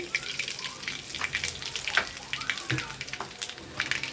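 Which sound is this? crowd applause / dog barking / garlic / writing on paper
garlic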